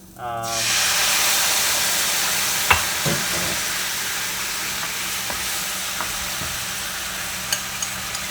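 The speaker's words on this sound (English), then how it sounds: "And then I'm going to go ahead and pour my sauce in." Soy-based sauce with sriracha is poured into a pan of frying black drum fish, setting off a sudden loud sizzle that settles into a steady hiss with occasional utensil clicks.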